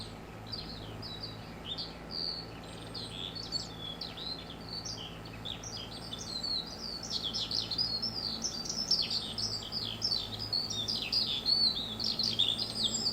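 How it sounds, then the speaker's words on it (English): Dense, continuous chirping and tweeting of birds from the video game Farming Simulator 22, with many overlapping calls over a low steady hum, growing louder in the second half. "That bird is from my game as well, isn't it? It's fucking loud."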